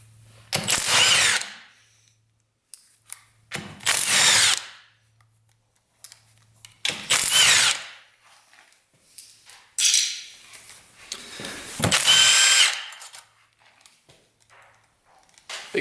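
A power drill takes the bolts off an old 1200cc motorcycle that sat for over 20 years, firing in about five loud, close bursts of whirring separated by short quiet gaps.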